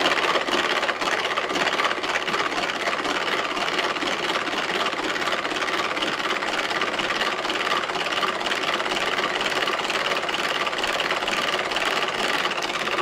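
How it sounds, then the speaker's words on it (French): A Tupperware Speedy Chef whisking three egg whites for meringue, producing a steady, continuous mechanical whirring and rattling that stays even and close for the whole stretch, with no talking. "Donc, Speedy Chef, 3 blancs d'œufs et c'est parti en vitesse 1 évidemment."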